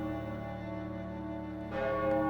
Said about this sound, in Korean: 종소리가 가까운 곳에서 엄숙하게 울려 퍼졌는데